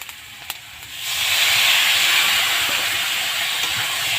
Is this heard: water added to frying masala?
yes